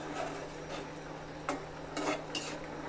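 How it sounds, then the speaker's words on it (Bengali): Egg and paneer curry with slit green chillies is stirred in a pan, a spoon scraping and clinking against the metal in several short strokes over a steady low hum, close and clear with no talking. "দিয়ে হালকা একটু নেড়ে চেড়ে দেবো।"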